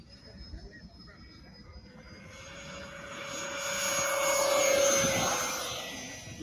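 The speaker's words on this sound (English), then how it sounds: "Beautiful place to watch a plane fly." A radio-controlled model airplane drones overhead, its engine whine rising as it nears, peaking and then fading, while people talk over it.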